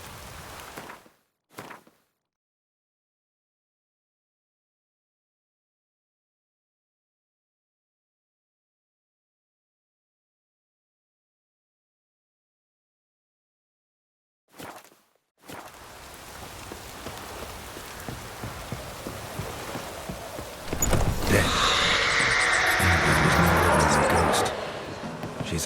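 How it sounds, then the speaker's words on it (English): Rain falls in The Witcher video game after a long silent stretch, starting as a soft steady patter and swelling into a louder, denser downpour toward the end. "Looks like rain."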